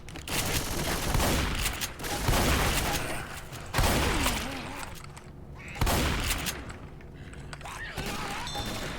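Bursts of rapid gunfire with kicking recoil in the zombie shooter Left 4 Dead 2, loud volleys in several clusters separated by brief lulls, with a voice talking at moments between shots.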